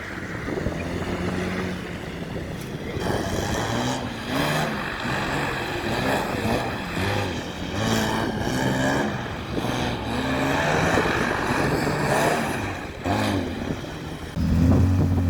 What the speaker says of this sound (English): now I'm outside because Tom is going drive and Diana's on the passenger seat.